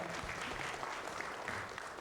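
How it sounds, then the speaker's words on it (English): After a panel discussion on AI, the audience gives a round of applause, a faint, even wash of clapping heard from a distance throughout. "can we have a huge round of applause, everyone?"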